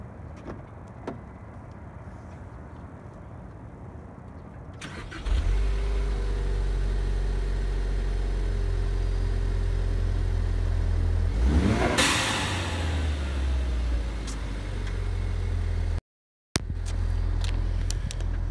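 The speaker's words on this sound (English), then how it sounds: "that cold start was just way too quiet" A Ford Focus ST starts cold after a few seconds of quiet, then settles into a steady, loud idle with one sharp rising rev in the middle. The engine is near and heard alone.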